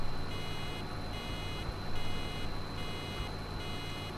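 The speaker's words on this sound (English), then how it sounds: "Oh my goodness, this is going to beep forever." A baler in Farming Simulator 2013 beeps in a repeating on-off pattern, a steady electronic tone pulsing about once a second over a constant low engine hum, with no voices.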